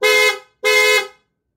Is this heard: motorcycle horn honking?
yes